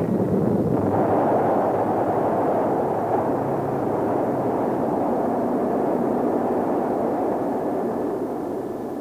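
A Mercury Redstone rocket lifts off from Cape Canaveral in 1961, a loud, continuous low roar that stays steady and dense for the whole stretch, with no voices over it.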